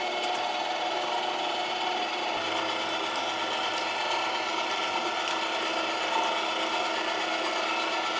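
A meat grinder churns beef, pork and fat for sausage, a loud, continuous mechanical grinding with a gritty, ratcheting texture that holds steady throughout without pauses.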